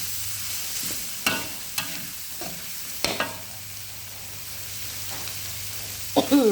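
Beans and pork stir-frying in a pan, a continuous close sizzle broken by several sharp scrapes and knocks of the spatula against the metal.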